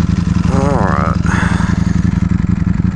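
A Ducati Panigale V4S motorcycle engine runs close by with a loud, throbbing idle, while a voice rises and falls over it.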